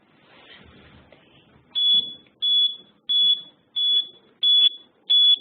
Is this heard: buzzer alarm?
yes